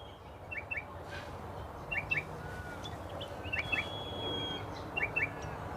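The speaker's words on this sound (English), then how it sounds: "Can everybody hear all the different birds that are chirping?" Several kinds of wild birds chirp at dawn beside the water while out bream fishing, with short paired calls repeating every second or so over a steady low ambient hum, fairly distant and moderate in level.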